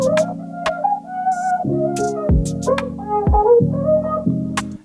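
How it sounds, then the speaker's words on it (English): A chopped shaker loop in a Logic Pro X beat plays inside a dense layered mix of sustained harmonic synth and bass chords that shift every second or so, with bright short percussive ticks recurring throughout. "I'll show you my chopped shaker loop"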